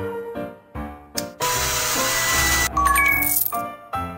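A hair dryer blows on hair in a Christmas-themed animal salon game, a steady whooshing roar lasting over a second, framed by cheerful game music and sparkly chimes.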